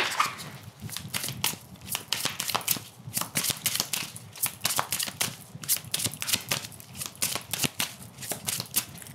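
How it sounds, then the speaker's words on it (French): Oracle card deck being handled and cut, a dense run of crisp papery flicks, slaps and riffles close to the microphone, continuous and irregular, with no voice over it. "On va faire la coupe parce que elle ne veut pas ressortir la carte"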